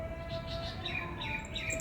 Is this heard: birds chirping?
yes